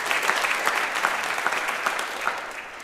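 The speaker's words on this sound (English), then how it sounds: "They deserve a round of applause." An audience applauds at the Richland School District Two State of the District event, a full, even roar of many clapping hands lasting the whole stretch, heard without speech.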